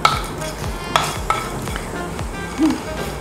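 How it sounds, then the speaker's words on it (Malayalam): Cumin seeds crackle gently in hot oil in a pan while cooking a Kerala chicken stew, with sharp metallic stirring clinks and scrapes over a soft sizzle and no voices. "ജീരകം ചെറുതായി പൊട്ടി തുടങ്ങിയിട്ടുണ്ട്"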